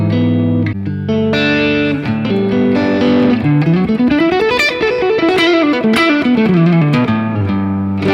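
Electric guitar with a warm, thick P90 neck-pickup tone played in a lively run of chords and single notes, loud and close with slight grit and no talking.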